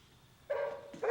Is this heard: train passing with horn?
no